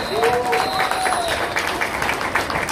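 Crowd applause for Governor Angel Amante at a school division closing ceremony, steady clapping across the hall while a speaker's voice continues over it.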